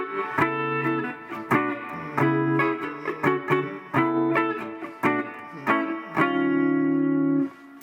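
Electric guitar played through a Hughes & Kettner amp with the Crunch Master preamp bypassed: strummed chords and sharp muted stabs in an uneven rhythm, close and fairly clean, ending on a sustained ringing chord.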